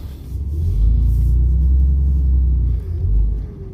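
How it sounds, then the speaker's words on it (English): Road traffic with car and truck engines rumbling, a loud, steady low drone that swells and eases slightly as vehicles pass close by, with no voices. "Traffic everywhere."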